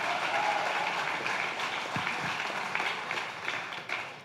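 Audience applause at a Portuguese-language talk, a dense, steady wash of clapping filling the room throughout and tapering slightly toward the end.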